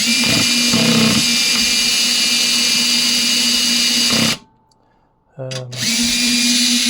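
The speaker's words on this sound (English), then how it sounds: "I'm just putting all the bolts in using the screwdriver. Cordless drill, sorry." A cordless drill driving bolts into split rims whirs in long, loud bursts, with a short pause and a couple of quick trigger pulses before it spins up again.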